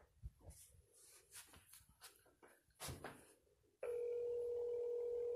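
After a few seconds of faint shuffling and knocks, a loud, steady telephone dial tone starts abruptly and holds unbroken to the end.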